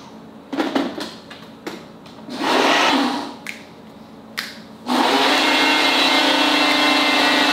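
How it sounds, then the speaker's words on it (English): A Ninja blender blends a protein smoothie with almond butter, starting in short loud bursts and pauses, then running at a steady loud whir to the end. "I have a Ninja blender"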